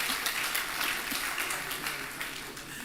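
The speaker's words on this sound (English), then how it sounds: "Another round of applause for the Oni." At a graduation ceremony, an audience applauds a traditional ruler, a thick, sustained roar of clapping that fades slightly toward the end.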